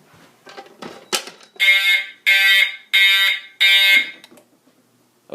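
During a fire alarm system test, the alarm blares in four loud, evenly spaced bursts, each about a second long, after some brief clattering and shuffling sounds.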